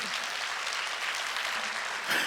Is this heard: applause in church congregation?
yes